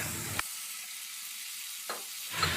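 Spices for a cassava leaf curry, with lemongrass and bay leaves, sizzle steadily in a pan, a close, bright hiss that keeps going, with brief stirring scrapes near the start, middle and end.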